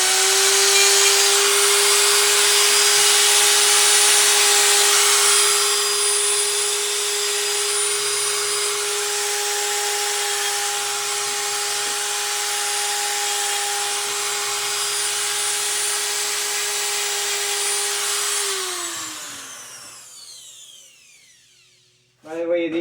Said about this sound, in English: these Metabo electric die grinders are probably one of the most amazing tools ever invented